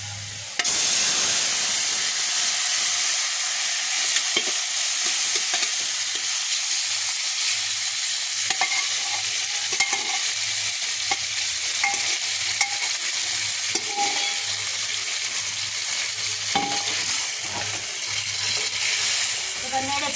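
Boiled vegetables hit a hot pan of browned onions with a burst, then keep sizzling while a utensil stirs and scrapes in irregular strokes, close and fairly loud.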